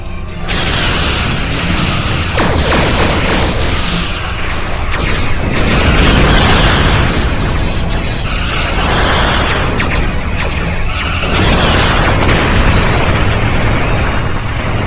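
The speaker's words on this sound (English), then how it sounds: "Warning. Artillery incoming. Exit area." Incoming artillery explosions in a Star Trek space battle, a loud continuous roar of heavy rumbling blasts with three sharper bright bursts spaced a few seconds apart.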